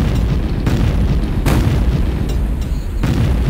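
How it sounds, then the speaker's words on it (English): Heavy grenade launcher blasts boom in the Shadow Warrior video game. Several deep explosions land at roughly one-second intervals over a continuous loud rumble. "Lob a couple grenades over there."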